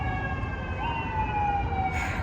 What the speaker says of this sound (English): I'm sorry about the sirens, but it is New York City, so that's what we get.